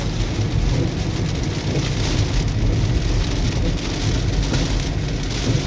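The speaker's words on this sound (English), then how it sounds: "Oh yeah, it's raining." Heavy rain drums steadily on a car during a drive, a dense, loud, unbroken hiss and patter filling the whole stretch with no voices.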